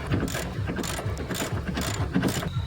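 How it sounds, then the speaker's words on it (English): A ratchet tightening brake caliper bolts during a big brake conversion on a B15 Nissan Sentra with 300ZX calipers, giving steady rapid pawl clicks close up with light metallic clatter throughout. "Now I just gotta tighten the bolts."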